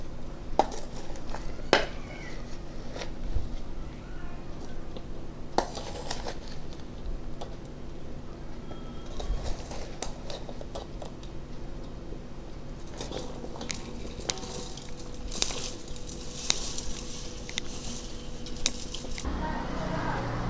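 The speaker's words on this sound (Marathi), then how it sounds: "आता आपण हे सगळे कैऱ्या मसाल्यामध्ये मिक्स करून टाकणार आहोत।" Raw mango pieces tossed into pickle spice masala with jaggery in a metal bowl, a steady close clatter and scrape of utensil against vessel with scattered crunchy knocks, no voices.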